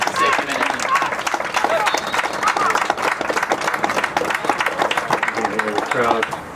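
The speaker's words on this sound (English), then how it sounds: "The crowd doing a round of" A football crowd at an L1OM match between Toronto Skillz FC and Alliance United FC gives sustained applause as an injured player is wheeled off. Dense, steady clapping carries through, with a commentator's voice talking over it.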